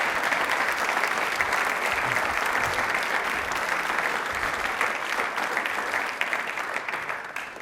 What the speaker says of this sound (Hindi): तालियां फिर एक बार सर के लिए जोरदार हो जाएं